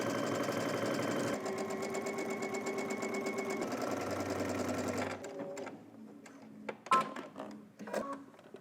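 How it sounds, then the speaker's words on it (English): A sewing machine runs steadily for about five seconds, stitching along the outer edge of a robe's pocket bag at a 5/8-inch seam allowance, then stops, followed by a few handling clicks and fabric rustles. "we're going to stitch along the outer edge of the pocket bag"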